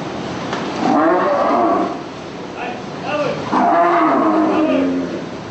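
Several drawn-out moos from cattle at slaughter, loud and close, one after another with brief pauses between calls.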